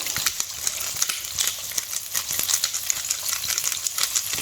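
Seafood fries in butter seasoned with salt and black pepper, giving a close, busy crackle of fine spitting pops and small clicks that repeat throughout without talk.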